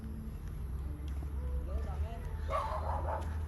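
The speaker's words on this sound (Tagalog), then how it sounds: "Naku, may aso." A dog barks and yips a few times in a backyard, somewhat distant and brief, over steady low background hum and faint talk.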